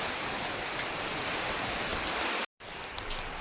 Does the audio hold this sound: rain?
yes